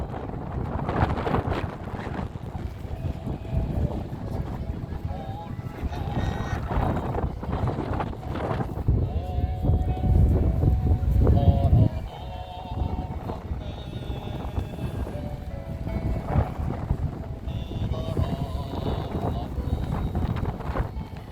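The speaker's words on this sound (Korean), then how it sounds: "바람이 너무 많이 붑니다" Strong wind blows across a microphone at Bangeojin harbor on Seuldo island in Ulsan, a constant loud rushing roar with gusts that swell and ease.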